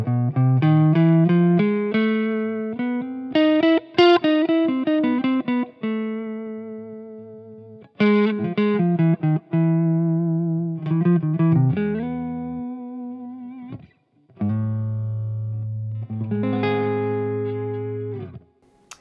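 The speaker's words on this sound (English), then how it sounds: "This is the Gypsy scale, and it sounds like this." An electric guitar plays the Gypsy scale as a run of clear single notes through effects, with a few pauses between phrases and some held notes near the end, with no talking over it.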